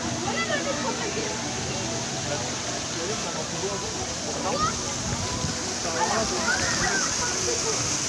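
Water splashes and rushes continuously at the Grand Splash water ride in Parc Astérix, a loud, steady wash of spray and churning water, with voices and crowd chatter mixed in.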